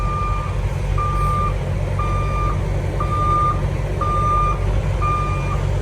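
A truck reversing toward a trailer gives a steady series of loud, evenly spaced reversing beeps, about one per second, over a constant low engine rumble.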